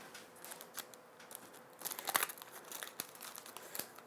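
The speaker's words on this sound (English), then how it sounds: "I've got it taped everywhere here, so undo our tape." Adhesive tape being pulled and peeled off a metal craft cutting die on a card project, giving crinkly tearing and rustling sounds that grow louder midway, with sharp snaps and close handling noise and no speech.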